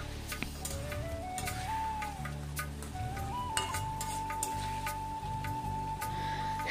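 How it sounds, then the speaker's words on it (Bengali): Onions fry in a pan over a medium gas flame, giving a soft, steady sizzle with scattered faint ticks and a thin tone running through the background. "গ্যাসের ফ্লেম মিডিয়ামে রেখে পেঁয়াজটা পুরোপুরি নরম হওয়া পর্যন্ত রান্না করে নেব।"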